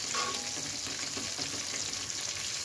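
Rohu fish pieces frying in plenty of hot oil, a steady close sizzle and crackle with no voices over it.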